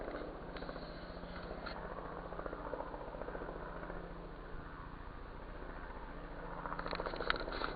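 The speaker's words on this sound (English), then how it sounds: "I hear a chopper" A helicopter approaches over Alaskan woods, a low rhythmic rotor thump and drone that stays faint and distant throughout, rising slightly toward the end.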